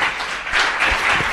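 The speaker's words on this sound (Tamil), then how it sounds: "நல்ல கரவொலி எழுப்புங்க." Audience applause at a Tamil pattimandram debate during a college festival, a steady dense wash of clapping from a crowd that carries through the whole short stretch at even loudness.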